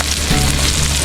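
Onion and garlic frying together in a hot pan, giving a steady, dense sizzle that holds at an even level throughout without any talking.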